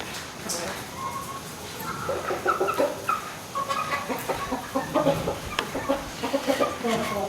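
A Pumpkin hatch gamefowl rooster clucks in short, repeated bursts at close range, with other fowl and talk mixing into a busy yard background.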